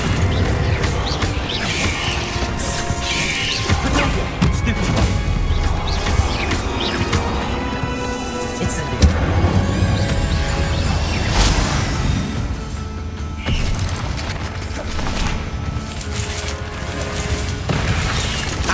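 Bombarda spell explosions in Hogwarts Legacy, a dense, loud, continuous barrage of booms, crashes and bursting pops with clattering impacts over a steady game soundscape, with no talk.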